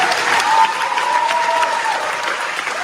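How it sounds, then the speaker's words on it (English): A crowd applauds steadily, a dense, loud, unbroken wash of many hands clapping for a man, with a faint tonal hum running beneath. "These fucking maggot-like people applauding him and everything"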